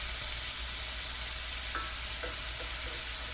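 Corn fries in vegetable oil for corn chowder, giving a steady, close sizzle and hiss with a few faint stirring clicks and no talk.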